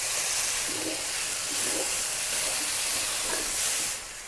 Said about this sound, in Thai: น้ำซอสผัดใส่ลงไปเลยค่ะ